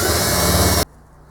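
A hand drill bores a 6mm hole, a steady loud whirring grind that runs continuously and then cuts off abruptly, leaving a quiet room.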